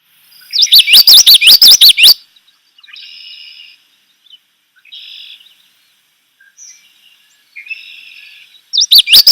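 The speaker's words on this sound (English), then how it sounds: "so that's the common yellowthroat" A common yellowthroat sings loud, close, rapidly repeated rolling phrases, quiet in between apart from fainter short calls, then the song bursts out again at the end.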